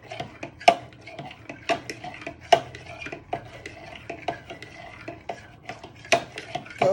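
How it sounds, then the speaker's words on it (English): A spoon stirs a kebab mixture around a pot, giving repeated close scraping and clinking knocks in an uneven rhythm. The sounds come clear and distinct with no talk over them. "So just give this a stir for a minute or two so it all binds in and dissolves"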